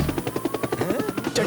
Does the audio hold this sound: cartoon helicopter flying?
yes